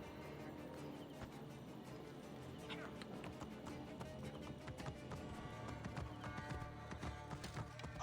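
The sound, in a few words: horse galloping hooves in video game Assassin's Creed Origins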